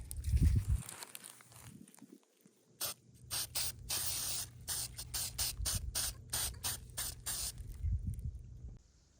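Phoebe's Leather Sheen sprayed from an aerosol can onto a vacuformed leather skull: about a dozen short, close hissing bursts in quick, uneven succession, with no talking.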